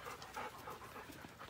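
A dog about eight years old panting softly and quickly, rapid breathy huffs in a steady rhythm, quiet and close, with no voices.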